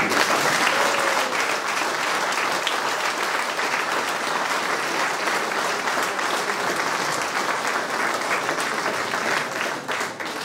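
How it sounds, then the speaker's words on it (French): Sustained audience applause at a municipal New Year ceremony in Tosse honouring a female trail runner with a medal, dense steady clapping filling the room at even loudness throughout, with no talk over it. "Je crois qu'on peut l'applaudir."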